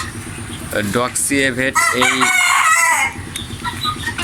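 A rooster crows loudly and close by in one drawn-out call, with clucking and farmyard noise around it.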